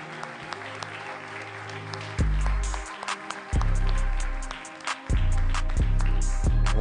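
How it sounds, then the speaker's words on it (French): Audience clapping at the Factory 2023 conference during Pierre-Antoine Marty's talk: steady, loud applause runs throughout, with booming low musical tones surging beneath it in several swells. "Applaudir."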